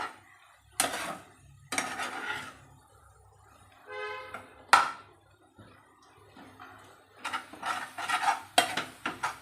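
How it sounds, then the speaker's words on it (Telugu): A spoon scrapes and clatters against a cooking pan as food is stirred, with several sharp metallic knocks and scrapes spaced irregularly, moderately close, with no talk. "ఇట్లా మంచిగా కలుపుకుంటూ ఉండాలి అప్పటికి."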